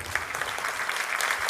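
Audience at an award ceremony applauds in a steady, dense wash of hand claps, sustained and fairly close, with no break through the whole stretch.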